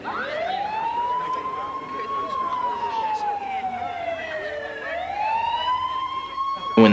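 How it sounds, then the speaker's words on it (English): An ambulance siren wails close by in long rising and falling sweeps that dip and climb again, with faint voices underneath. "When the ambulance drove up, silence covered the field."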